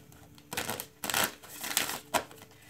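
A deck of tarot cards is shuffled by hand in several quick riffling bursts, close and crisp, separated by short quiet gaps.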